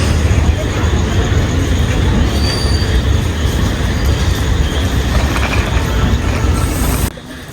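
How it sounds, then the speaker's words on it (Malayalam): A train pulling out of Kasaragod station in the rain, with a loud steady rumble of wheels on rails and occasional squeals, heard from inside the carriage until it cuts off near the end. "അങ്ങനെ കാസർഗോഡിൽ നിന്ന് ട്രെയിൻ വിട്ടു."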